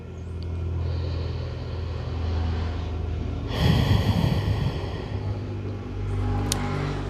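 A deep belly breath in yoga: a steady airy inhale building into a fuller, louder exhale midway, then easing off, close and breathy with no words spoken.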